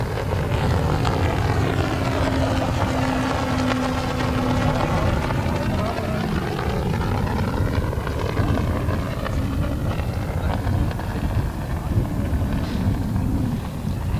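A competition model aircraft from the University of Ljubljana circles overhead at an AIAA Design/Build/Fly contest, its propeller drone rising and falling steadily under gusty wind noise, while a commentator speaks over it.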